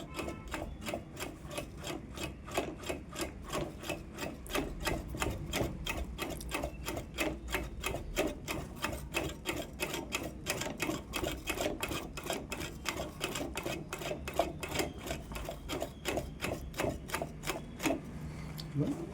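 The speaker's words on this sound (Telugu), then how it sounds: "మనకు ఈజీగా ఓవర్లాగ్ అనేది నీట్గా స్టిచ్ అవుతుంది" An overlock sewing machine stitches in a fast, even mechanical rattle, close and steady for the whole stretch with no talk.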